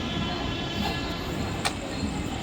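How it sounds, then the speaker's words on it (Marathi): A slow Mumbai local train bound for Kalyan rumbles steadily into a station platform at night, a continuous low roar of wheels and carriages with a brief higher screech partway through. "कल्याण जाने वाली धीमी लोकल थोड़े ही समय में प्लेटफॉर्म क्रमांक 1 पर आ रही है।"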